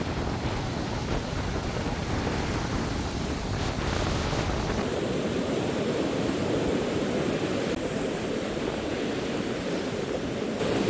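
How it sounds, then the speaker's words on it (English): Big ocean waves crash and roll onto a Rhode Island beach in a continuous broadband roar, with wind buffeting the microphone throughout and no voices. "Big waves."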